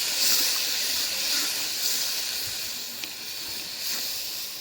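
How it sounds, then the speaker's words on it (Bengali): Spice masala with turmeric, chilli and coriander powders frying in a pan, giving a soft, steady hiss with faint scraping ticks throughout and no talking. "মশলাটা সুন্দর করে কষাই নিলাম।"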